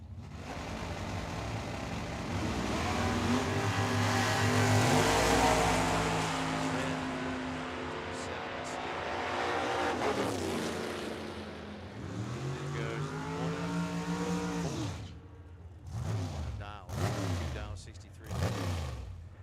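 Drag racing cars, a 1970 Camaro and a Corvette Roadster, roar at Tucson Dragway, with engines rising and falling loudly before a trackside announcer's voice comes in over fading motor noise.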